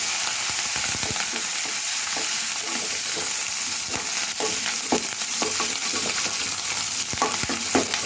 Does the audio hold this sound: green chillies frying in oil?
yes